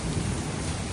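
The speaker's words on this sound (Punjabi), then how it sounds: "ਦੇਖ ਲਓ ਨਜ਼ਾਰੇ ਹੁਣ ਮੀਂਹ ਆ ਗਿਆ" Steady, dense rain hiss with a low rumble underneath, continuous and fairly loud throughout the short stretch.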